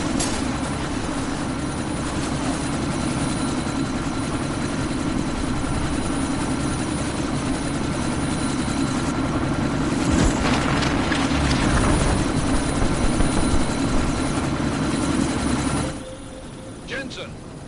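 Military helicopter in a PS4 action game, its steady rotor thump and engine drone filling the scene loudly and continuously, with game voices talking over it before the noise drops near the end.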